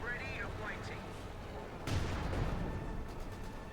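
Mortar fire in Company of Heroes 2 thumps during an OKW versus UKF match, a sharp impact landing midway over a busy battle bed of distant firing, with a commentator's voice running underneath.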